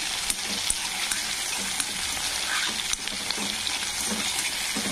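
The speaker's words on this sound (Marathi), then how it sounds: "त्याची असे फ्राय होऊ द्यायचे" Chopped ridge gourd and tomatoes frying in a pan give a steady, soft sizzle with faint crackles throughout, close by and alone.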